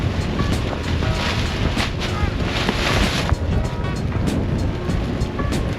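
Strong outdoor wind while flying a parawing, a loud, continuous roaring rumble buffeting the microphone throughout with gusty swells and no talk.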